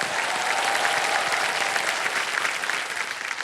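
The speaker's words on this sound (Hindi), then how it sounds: "एक बार जोरदार तालियां बज जाएं इनके लिए" Strong, sustained applause from the studio audience of a Hindi TV quiz show fills the room evenly, dense and close, with no speech over it.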